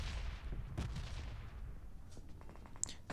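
Gunfire in the PUBG Mobile video game comes as a few faint, sharp bursts of shots over quiet background noise.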